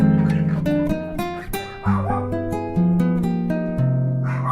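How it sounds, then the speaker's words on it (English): A dog gives a quick series of close, high-pitched barks and yips, some stretched into short whining tones. The bursts come one after another in an uneven rhythm, and no one speaks over them. "And now we just heard the dog."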